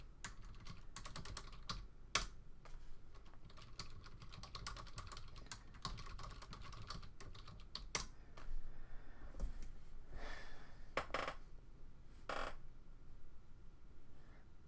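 Computer keyboard keys tapped in quick, uneven bursts with short pauses, close and fairly quiet, with no talking.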